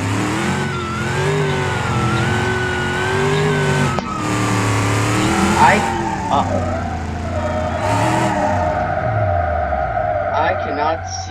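A car engine in the BeamNG.drive driving game revs loudly and steadily, its pitch rising and falling through gear changes, with a tire squeal around the middle and a person talking over the engine.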